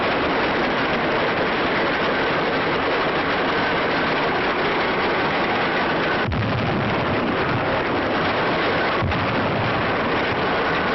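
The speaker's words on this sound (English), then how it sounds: "I wouldn't buy a tractor that made so much noise." An old, unmuffled crawler tractor engine roars loudly and continuously, with two sharp bangs partway through.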